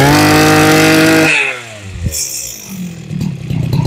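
A small Honda GX35 gasoline brush cutter engine roars loudly at high revs, then cuts back to a rough, sputtering idle with clattering before picking up again.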